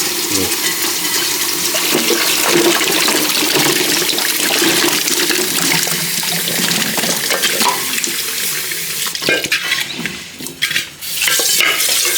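Tap water runs steadily and loudly into a sink while chopped ripe pumpkin pieces are washed, with occasional clinks of a vessel and splashing shifts near the end.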